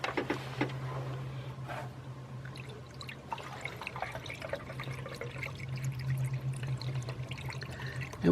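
Antifreeze poured from a jug into a Buick Lucerne radiator, a continuous trickling, gurgling flow with occasional drips and glugs, close and moderately loud over a low hum.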